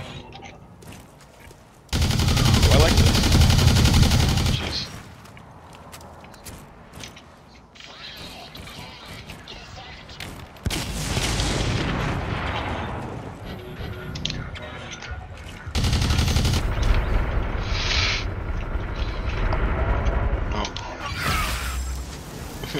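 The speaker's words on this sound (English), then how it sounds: "Shooting at me." Gunfire in the Blacklight: Tango Down multiplayer team deathmatch, heard as loud bursts of shooting with mechanical clatter in several dense stretches, under a noisy game mix and faint voice chat.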